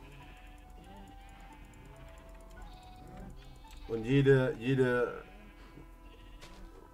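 Sheep bleat in Minecraft, two loud wavering bleats close together mid-clip, while someone talks in German before and after them over quiet background music.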